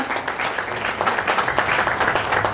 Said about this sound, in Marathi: टाळ्यांचा गजरात करा.